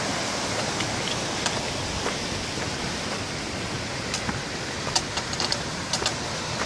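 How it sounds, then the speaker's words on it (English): Water flowing beneath a footbridge on a hiking trail makes a steady, broadband rushing wash, with a few faint clicks near the end. "That's the water that the bridge goes over."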